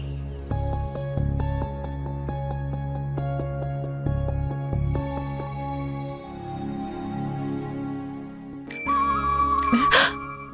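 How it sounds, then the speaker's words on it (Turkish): A bicycle bell rings repeatedly over a steady low hum, with a sharper, louder burst of rings near the end. "Hayır İmli, o telefon zili değildi. Bisikletin ziliydi."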